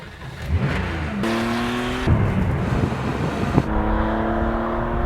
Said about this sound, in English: the exhaust note of the early 911